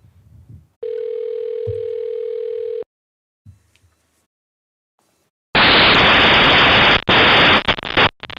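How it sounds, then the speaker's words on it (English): Telephone line being dialed for a call-in at a city council meeting: a steady two-second dial tone, then silence, brief faint clicks, and bursts of loud hissing static toward the end. "I'm going to dial her right now."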